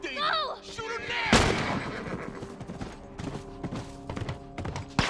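Gunfire in the video game The Last of Us: a loud close shot followed by scattered clattering impacts and lighter shots, with a brief shouted voice at the start and a tonal game hum underneath.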